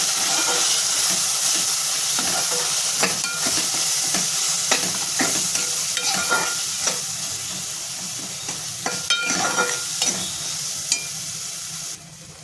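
Cumin powder, turmeric and goda masala stirred together in a hot pan for stuffed bitter gourd, a continuous loud sizzle with repeated scraping spatula strokes throughout, close up and with no talking.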